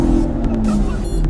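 Aston Martin V12 engine, on a Vanquish S, V12 Vantage or DB11, running with a steady low drone heard from close by, loud, with a brief hint of tire noise.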